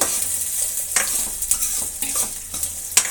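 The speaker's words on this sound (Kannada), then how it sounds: "ದಪ್ಪದಾದಂತಹ ಮೂರು ಈರುಳ್ಳಿನ ಹಾಕ್ತಾ ಇದ್ದೀನಿ ಇವಾಗ ಸಣ್ಣದಾಗಿ ಕಟ್ ಮಾಡ್ಕೊಂಡಿರೋದು ಈರುಳ್ಳಿನ ಚೆನ್ನಾಗಿ ಫ್ರೈ ಆಗಲಿ" Three thickly chopped onions frying in a pan for bottle gourd sambar, a steady close sizzle broken by repeated scraping stirs of a spoon against the pan.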